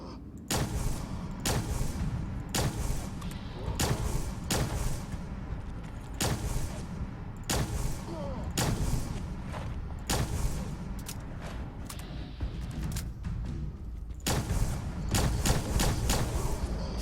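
Two Shot Plasma Rifle from Fallout 76, fired as roughly a dozen sharp, loud single shots spaced about a second apart over a dense, steady in-game background rumble.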